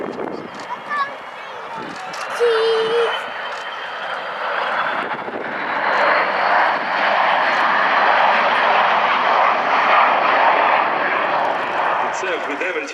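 A Boeing 727 oil spill response jet roars past at the Duxford air show, a loud sustained engine rush that swells and holds, while someone speaks over it early on.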